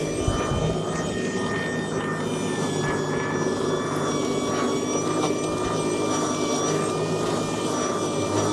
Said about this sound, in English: Probably what we'll do now is get the backpack blower on this